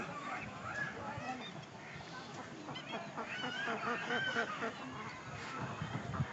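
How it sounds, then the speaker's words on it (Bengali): Ducks honk and quack repeatedly along a riverbank, a string of nasal calls at moderate distance over outdoor ambience, with faint voices and movement around them. "এই যে আবারও হাঁস ডাকতেছে"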